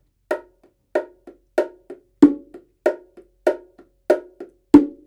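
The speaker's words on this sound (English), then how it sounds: "martillo sound like this" Martillo pattern played on bongos with hand digitation: crisp open slaps land at an even pulse, with soft ghost-note taps tucked between them, close and dry, and nothing else heard.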